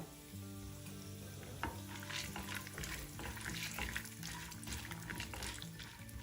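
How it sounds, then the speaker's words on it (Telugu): Urad dal and peanuts frying in hot oil in a pan for a curry leaves chutney, giving a steady dense sizzle with faint crackles, close and without speech, over a low background hum. "పప్పు కొద్దిగా వేగాక దీనిలో పల్లీలు వేసి వేయించుకుందాం."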